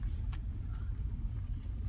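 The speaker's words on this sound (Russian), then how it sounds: "Соня ведет машину." A car being driven slowly by a learner driver, with a steady low engine rumble and road noise close inside the cabin, continuous throughout with no talking.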